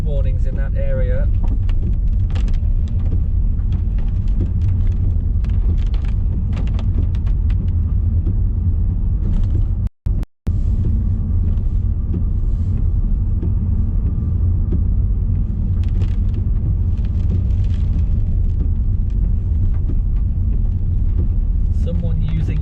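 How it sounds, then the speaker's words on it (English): Heavy rain pounds down during Storm Babet flooding in Scotland, a steady, dense roar with low rumble running throughout, briefly cutting out midway, with faint voices or traffic-like noise beneath. "The only noises we've got here is heavy rain"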